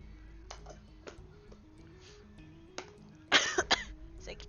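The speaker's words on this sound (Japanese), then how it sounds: "咳止まらんし。" A couple of short, rough coughs burst out near the end, close and fairly loud, over a quiet background with soft tones.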